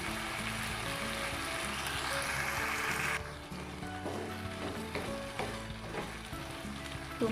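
Carrots, green beans and shrimp stir-frying in a pan, a steady close sizzle that drops in loudness partway through, with intermittent stirring scrapes and clinks of the utensil against the pan.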